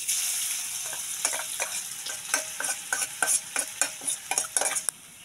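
Spice paste for sate Padang frying in hot oil, a steady loud sizzle with repeated sharp scraping strokes of a spatula stirring it in the pan.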